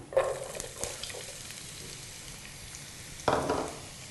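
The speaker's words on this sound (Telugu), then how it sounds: "ఆయిల్ వేడొచ్చిందండి ఇందులో ఉల్లిపాయ ముక్కలు వేస్తున్నాను" Chopped onions drop into hot oil for a potato cabbage curry, bursting into sizzling spatters at the start and again near the end over a soft continuous frying hiss, with no voices.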